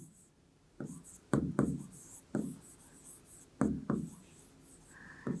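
Pen writing out a ratio word problem solution on paper, several distinct scratchy strokes and taps in short bursts with quiet gaps between, close and soft.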